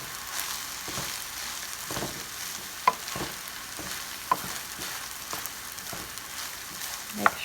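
Pork fried rice with soy sauce being stir-fried in a hot pan, a continuous sizzle with rhythmic scraping tosses about once a second and a few sharp metallic clicks of the utensil, close and alone.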